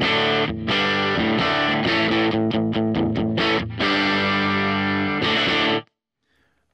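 A distorted electric guitar plays through a Fender Tone Deluxe amp model with the gain turned up, loud sustained chords and a quick run of choppy strums before ringing out and stopping abruptly.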